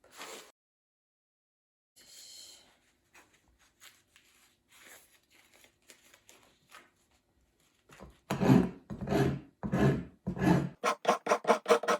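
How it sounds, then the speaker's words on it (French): A steel rasp works a horse's front hoof during trimming: a few faint, scattered scrapes, then a loud run of rough rasping strokes that quickens into short, rapid strokes near the end. "Nettoyer ma râpe."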